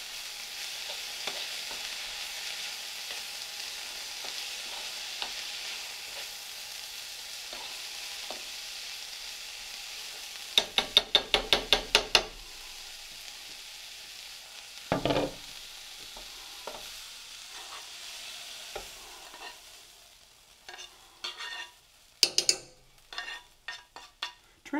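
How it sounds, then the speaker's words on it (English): Steady frying sizzle in a cast iron pan fills the clip, with a few sharp scraping clanks of utensils against the pan and a louder clatter near the end. "Hoping you get to hear the sizzle."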